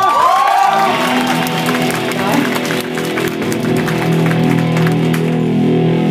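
Audience applause and cheering at a live concert at Baruch: steady, dense clapping from the crowd over sustained bass and instrumental tones, loud throughout.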